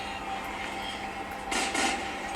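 Metro train in the video game Resident Evil 6, a steady rumbling rail drone with rolling wagon noise that grows louder and harsher near the end, heard alone without talk.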